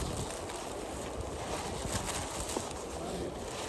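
Steady, blustery wind roars across the microphone in Polonezköy nature park, a constant broadband rush with no voices.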